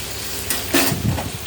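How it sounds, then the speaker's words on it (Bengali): Pointed gourd and fish roe fry in a pan in a short burst of sizzling, with a couple of louder scraping clatters as the pieces are moved, close and without talk. "দেখো পটলটা এদিকে লাল লাল করে ভেজে নিচ্ছি"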